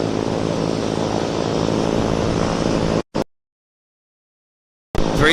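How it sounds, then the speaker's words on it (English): A plane taking off at Vancouver Airport, a steady loud roar of engine noise that cuts out abruptly near the end, then a brief return after silence. "Very fast takeoff, I agree."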